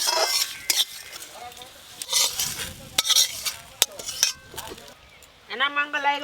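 Whole spices frying in mustard oil for a home-made fish curry, with a stirring spoon scraping and clinking against the pan and light sizzle in bursts, heard up close without talk.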